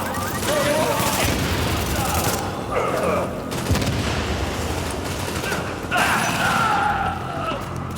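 Rapid bursts of automatic gunfire and single shots from Tom Clancy's The Division rattle almost continuously for eight seconds, loud and close, with shouted voices over the fighting.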